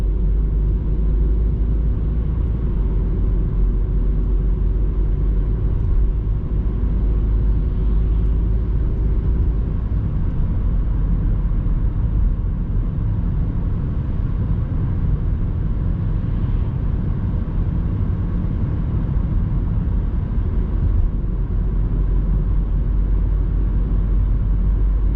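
A car drives along the B11 road through snowy Bavaria from Munich toward Bichl, a steady loud low rumble of engine and tyre noise on the road that stays even throughout, with no talk.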